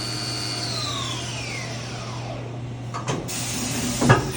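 A 1994 Haas VF-2 CNC vertical machining center spindle spinning down from 6,000 RPM, a loud steady whine that glides downward in pitch over a constant hum, then a couple of short clunks near the end.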